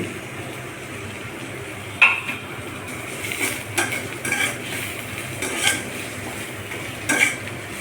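Chopped onion frying in oil for a country chicken curry, stirred with a metal spoon: a low continuous sizzle with repeated scraping and clinking strokes against the pan at irregular intervals.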